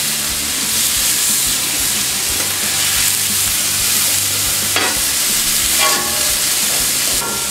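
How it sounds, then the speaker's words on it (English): Peppers, onions and garlic stirred in a hot pan sizzle steadily, a close, continuous frying hiss with occasional scraping from stirring and no talking. "Using the peppers and onions and garlic that we cut up. Put them in the pan, stir them around a little bit."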